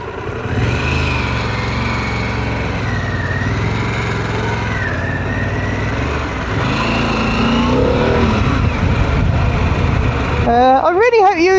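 A Harley-Davidson Pan America motorcycle idles and rolls through Friday-afternoon traffic, its loud steady engine drone close by with surrounding car noise, as someone talks over it throughout.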